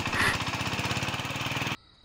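A voice imitates a shallow tube-well pump engine with a steady, rapid chugging rhythm. It stays loud and close, then cuts off abruptly near the end.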